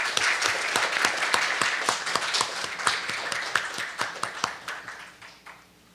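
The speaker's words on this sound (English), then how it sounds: "Let's give a big applause to the three speakers" Audience applause for three speakers at the opening session of a nuclear nonproliferation conference, a steady patter of many hands clapping at once that thins and fades away near the end.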